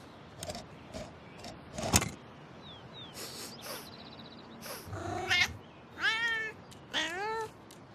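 A kitten gives two clear, close meows near the end, preceded by scattered knocks, clicks and small household noises at a quiet level.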